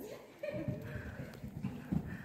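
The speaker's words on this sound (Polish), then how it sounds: "Zobacz, jak koń skacze." Horse hooves thud and clop on the ground at a riding stable during a jumping lesson, a few irregular beats at moderate distance under faint background sounds.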